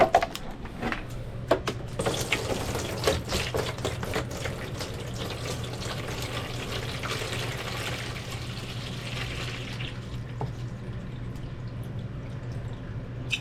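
Reverse osmosis water at pH 5.8 poured into a seed sprouting tray, a steady close trickle and splash of filling liquid with small drips, continuous for about ten seconds before settling down.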